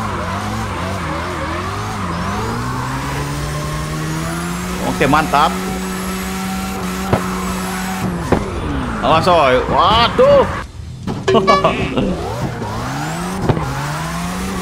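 Exhaust backfire from a Mitsubishi Lancer Evo X in CarX Drift Racing: a steady droning engine with rising revs, broken by sharp pops and crackles alongside tire squeal, while someone talks briefly over it.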